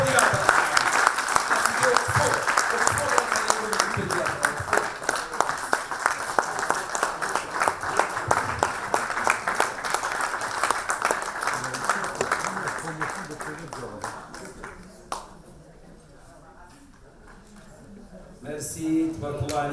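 Audience applause at an inaugural medical conference, sustained clapping with sharp individual claps up close for about fifteen seconds, then a lull with a voice speaking before the clapping resumes.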